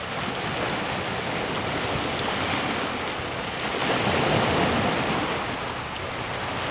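Waves wash onto a Libyan Sea beach in Crete at night, a continuous soft rushing surf that swells louder midway before easing back, with no voices.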